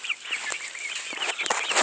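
A fluffy female Brahma hen makes soft, close clucks in quick, irregular bursts of short chirpy notes, with no voices over them.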